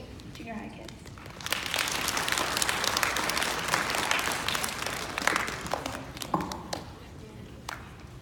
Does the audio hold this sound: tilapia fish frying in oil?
no